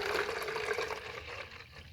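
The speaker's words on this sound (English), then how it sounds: "and then add the water" Water poured into a container for a simple drip irrigation setup in gardening sacks, a steady splashing pour that tapers off near the end, heard alone.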